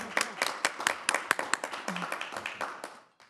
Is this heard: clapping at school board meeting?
yes